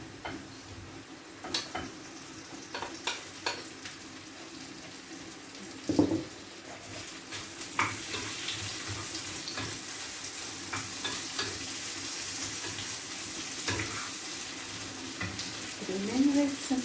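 Potatoes added to fried onions in a pan, frying with a steady close sizzle, scattered scraping stir clicks and a louder clatter near the middle, with no talk.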